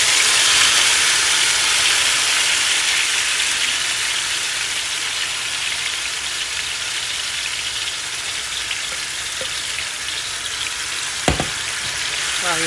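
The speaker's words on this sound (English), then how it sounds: "you hear that sound of that sizzle?" Chicken pieces sizzle and fry in a hot pot for homemade chicken fried rice, a steady loud hiss of crackling oil running throughout, with a few brief clanks near the end.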